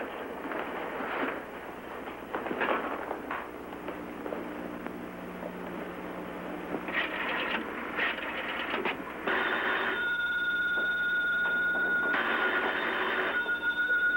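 Old telephone ringing in a dim room, a bell trill heard in several bursts under murmuring background, the later rings brighter and more sustained.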